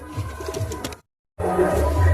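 Andhra and Ablook Dobuz pigeons coo in low, throaty repeated calls nearby, broken by a brief moment of total silence before the cooing returns louder and fuller.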